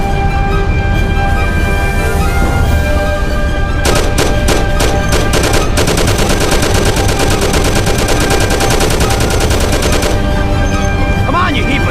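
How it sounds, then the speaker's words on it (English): Gunfire shootout in the Mafia video game: loud, continuous bursts of automatic weapon fire with rapid staccato rattling and scattered shots, heavy and close, over background game noise. "Thompson, you and Sam shoot them"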